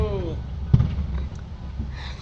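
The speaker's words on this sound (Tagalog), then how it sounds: "Wow, dancing firework." A dancing fireworks display at Mall of Asia gives a single close, sharp burst among lighter crackles, while people talk excitedly throughout.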